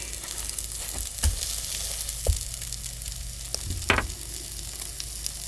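Steak sizzling steadily in a pan over an open flame, a continuous crackling hiss with a few sharper pops and spatters, close and alone with no talk.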